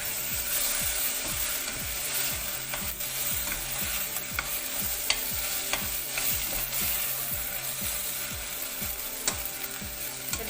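Onions, green chilies and ginger garlic paste sauté in a pan for a prawn masala, with a steady soft sizzle and regular scraping and stirring strokes of a spatula, no talking.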